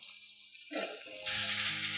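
A halibut fillet sizzles as it pan-fries in hot oil, giving a steady, close, hissing crackle that swells louder partway through.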